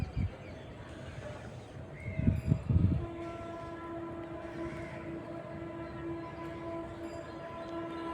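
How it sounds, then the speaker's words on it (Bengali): A train passing near Shyamnagar, its rumbling wagons building briefly loud before a long, steady horn blast sounds at a distance and holds to the end. "ট্রেনের আওয়াজ শব্দ শোনা যাচ্ছে"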